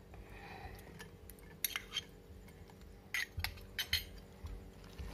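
Spoon clinks and scrapes against a bowl while fruit is stirred into custard for custard ice cream, a few sharp metallic clinks standing out from quiet, close stirring.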